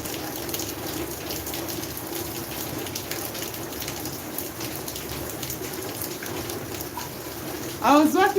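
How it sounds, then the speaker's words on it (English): Heavy afternoon rain lashing down in a garden with strong wind, a steady dense wash of drops and gusts running throughout, with a brief louder burst and a short voice-like sound near the end. "It was mad wind and rain."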